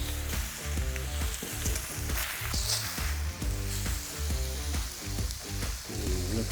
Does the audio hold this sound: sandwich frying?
yes